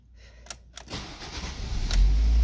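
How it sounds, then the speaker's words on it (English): A 2007 Ford Focus starting up: a couple of sharp clicks, then the engine cranks and catches, settling into a low, steady idle that grows louder toward the end. "Next, start up your car"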